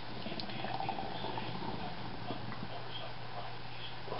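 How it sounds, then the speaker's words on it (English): Red Racer ISA beer, a little old, poured fast into a glass with a steady fizzing, bubbling liquid rush that stays even and fairly quiet throughout. "That was a bad pour."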